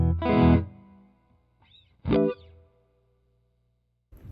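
A Squier Classic Vibe 60's Custom Telecaster electric guitar plays a strummed chord that rings out, then a second chord after a short gap. The tone is processed through effects and distortion, and the guitar is heard alone.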